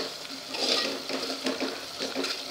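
Spices for a vegetable sambar sautéing in oil over already-cooked onion and tomato, a steady soft sizzle with light stirring and faint utensil scrapes, close by, with no one speaking.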